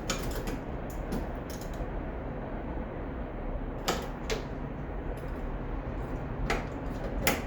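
A tight nut on a Triumph TR6 emergency hood release kit is worked loose, giving scattered sharp metallic clicks and ratcheting ticks at irregular intervals over a low steady background hum, close up and with no talking.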